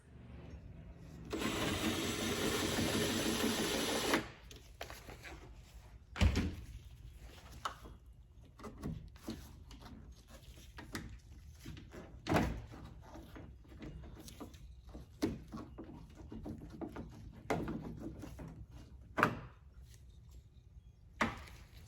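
Exterior door handle parts are removed on a BMW E46: a few seconds of steady whirring, then scattered plastic clicks, taps and clunks from the work, close up and fairly quiet.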